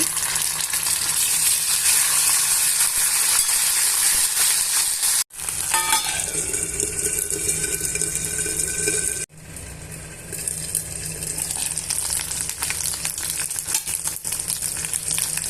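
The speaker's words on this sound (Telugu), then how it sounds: "అల్లం వెల్లుల్లి పేస్ట్ పచ్చివాసన పోయేంత వరకు వేయించుకోవాలి" Ginger garlic paste sizzles and fries steadily in a hot pan with tempering spices, a loud continuous crackle broken by two brief pauses, with stirring and no talk.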